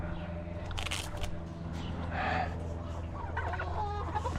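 Free-range chickens cluck and murmur close by in a yard during morning chores, with scattered short calls over a steady low background.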